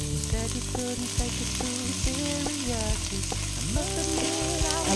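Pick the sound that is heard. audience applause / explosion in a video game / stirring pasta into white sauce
stirring pasta into white sauce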